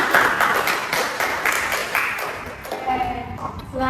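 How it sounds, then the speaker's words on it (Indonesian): A small group of students claps during a group guidance session on career-planning anxiety, with light, scattered hand claps over the first couple of seconds that thin out as a voice and faint tonal sounds take over. "Beri tepuk tangan untuk"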